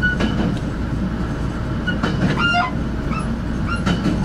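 Passenger train on the Neiwan branch line rolling steadily toward Zhuzhong station, a loud continuous interior rumble with faint wheel clatter and occasional squeals, no talking.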